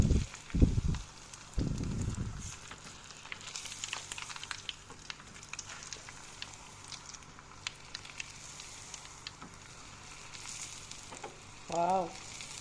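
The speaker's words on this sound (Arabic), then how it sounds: "دابا غندوزو ان شاء الله القطبان ديالنا نشووهم في الزيت." Meat skewers (qotban) frying in hot oil, a steady soft sizzle throughout with a few louder bubbling bursts near the start and a brief rise near the end, with no voices.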